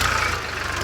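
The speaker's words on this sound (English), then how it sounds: "So I think this tractor is ploughing very fast" A tractor ploughing a farm field for planting runs with a steady close engine drone and low throbbing rumble, with no voices over it.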